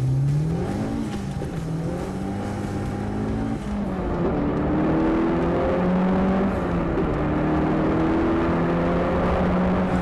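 A turbocharged Fiat Cinquecento running about 0.8 bar boost drives along, its engine droning close and loud with tones climbing through gear pulls and a brief dip near the middle, without speech.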